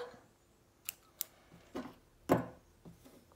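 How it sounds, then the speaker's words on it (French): Scissors snip through crochet yarn, a few short, quiet, crisp cuts spaced irregularly over a faint room hush, with the firmest snip toward the end. "Donc là, on coupe."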